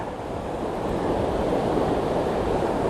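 Ocean waves break on a beach in a steady, loud wash of surf mixed with wind noise, with no voices.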